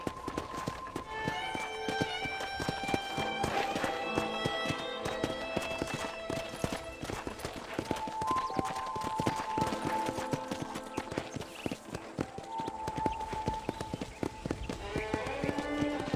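Galloping horse hooves in the video game Red Dead Redemption thud in a steady rapid rhythm over background music, with voices talking now and then.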